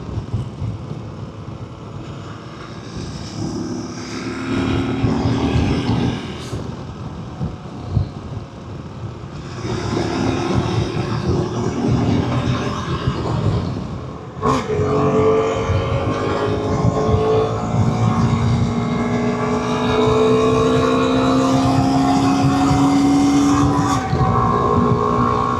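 A KTM 390 Adventure motorcycle engine cruising in sixth gear at about 60 mph and 4,500 RPM, a steady droning hum with shifting tonal whine, heavy wind buffeting across the microphone and no voices.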